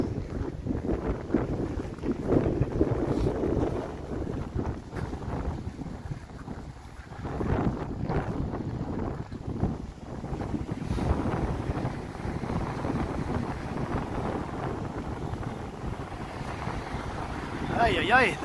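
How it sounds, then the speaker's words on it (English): Wind gusting against the microphone on a snowy Toronto street at a temperature below freezing beside tall apartment buildings, a continuous loud rumbling roar that swells and eases, with someone speaking over it. "Ay, ay, ay, the wind."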